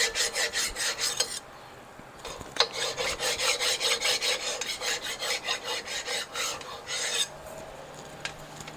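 Fine file rasping across the high spots around the stud holes of a Shovelhead cylinder head, in quick rhythmic back-and-forth strokes, close and clear, with brief pauses between runs.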